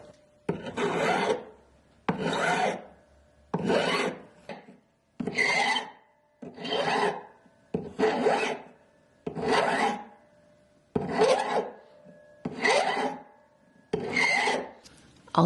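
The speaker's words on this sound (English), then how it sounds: "I am using a large flat-handed file, and I am using a large file because this is much more stable" A large flat hand file rasps across a silver bezel earring in about ten even, deliberate strokes, each a close, crisp scrape separated by short pauses.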